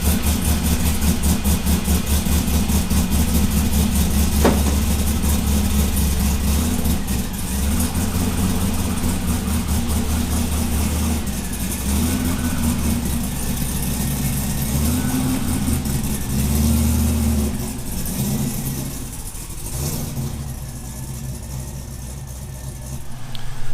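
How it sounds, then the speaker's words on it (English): A 1981 Camaro Z28 engine turns over and settles into a loud, lumpy idle, rumbling steadily up close in a garage with occasional blips of revving. "we're going to start her up and just ease her out of the garage."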